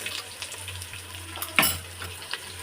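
Onions browning in oil for an egg and potato vegetable biryani, with garlic paste added, a steady soft sizzle and a brief stirring scrape midway, close and alone.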